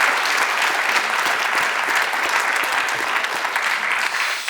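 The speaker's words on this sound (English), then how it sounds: "So let's give Ava Marie a nice round of applause." A lecture audience at ETH claps warmly for a speaker's introduction, a dense, even burst of applause that stays loud and steady before easing slightly at the end.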